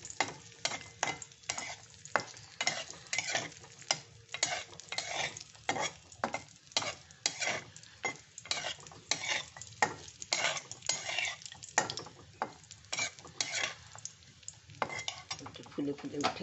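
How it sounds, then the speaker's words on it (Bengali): Cashews and raisins fry in hot ghee in a pan, giving a steady close sizzle broken by frequent scraping and clinking of a spoon as they are stirred. "এখন আমি এই কাজু আর কিশমিশটা দিয়ে দিলাম। এটা আমি একটু ভেজে তুলে রাখবো।"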